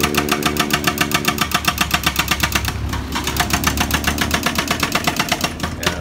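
A single motorcycle engine runs steadily close by, its fast regular pulsing beat holding through the whole stretch with no voices.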